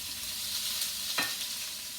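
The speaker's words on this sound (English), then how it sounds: "this is 1 medium onion I'm going to put in my pan. And I'm going to let it be sauteing" Chopped onion sizzles in a pan on medium-high heat, a soft, even hiss throughout with one brief scrape partway through.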